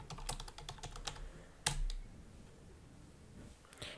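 Quiet, close typing on a computer keyboard, a quick run of light key clicks with one sharper tap, then a pause before a few more keystrokes.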